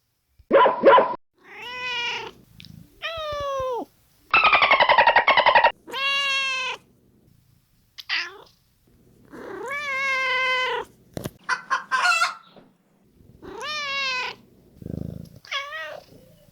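Cat meows repeated eight times, one after another with short gaps, each a clear harmonic cry, some drawn out and some short, close and loud with no talking.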